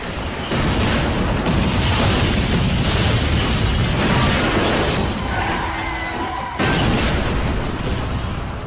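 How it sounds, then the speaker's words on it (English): Towers collapsing in a film scene: a loud, sustained roaring crash of rumbling debris and shattering, running almost unbroken for about eight seconds with a short dip near the end. "The towers are falling."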